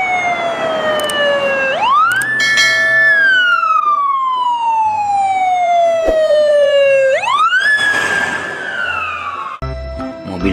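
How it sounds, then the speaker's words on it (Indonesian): A toy ambulance siren wails loudly and up close, sweeping through long rising and falling tones that cycle twice before a brief clatter at the end, with no talking over it. "Wow, ini ada mobil ambulans."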